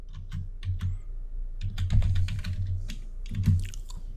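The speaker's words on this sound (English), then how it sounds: "let's start by typing the word select" Rapid typing on a computer keyboard, with irregular bursts of close, crisp key clicks and a few short pauses, heard alone without any speech.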